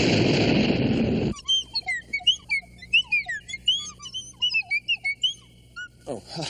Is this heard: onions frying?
no